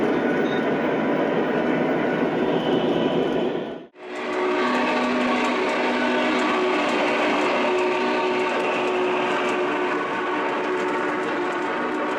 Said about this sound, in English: There were so many ways that I want to run this train.